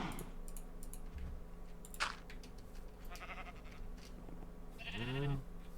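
Sheep bleating in a Minecraft multiplayer survival world, one wavering bleat near the end over soft keyboard clatter and faint game ambience.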